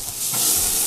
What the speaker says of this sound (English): It's a sound we love to hear, that sizzle on the grill.